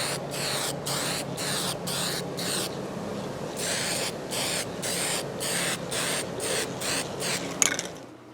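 Bursts of spray hiss in rapid rhythmic pulses as finish is sprayed onto a guitar, pausing briefly midway, then resuming; close and steady with no talking.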